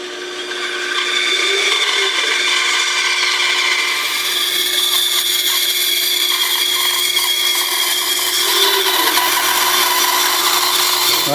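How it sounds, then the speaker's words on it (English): A bandsaw cutting out a wooden pattern, giving a steady whining hum with a continuous rasp of the blade through wood, held evenly for several seconds at close range without talk. "then you go on the bandsaw and cut them out"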